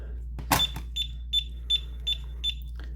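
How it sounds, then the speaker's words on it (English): A thermal tattoo stencil printer gives a sharp click followed by a regular series of short, high electronic beeps, about five evenly spaced, against a low steady hum. "That beep is very loud."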